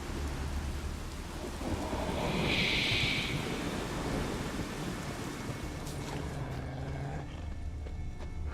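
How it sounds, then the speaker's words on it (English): Steady rain falling and a low thunder rumble in the Witcher 3 video game, a continuous wash of downpour at moderate level with the thunder rolling underneath, no voices. "Looks like rain."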